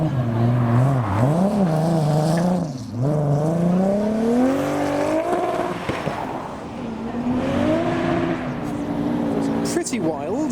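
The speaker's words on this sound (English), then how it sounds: "There goes the Beamer." A BMW engine revs and pulls away from a car show, pitch rising and falling through gear changes, loud and close with traffic noise around it.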